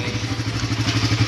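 Suzuki Raider 150 motorcycle engine running during an oil change, a steady close, loud idle with a low pulsing throb and light mechanical clatter, no talk.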